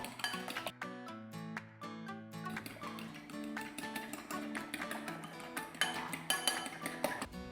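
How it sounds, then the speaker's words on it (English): Eggs and squid ink being mixed in a bowl for fresh spaghetti alla chitarra dough, heard as quick clinking and tapping of a utensil against the bowl, irregular and soft, with bright metallic ringing through. "Break the eggs in a bowl and mix. Add the squid ink and mix well."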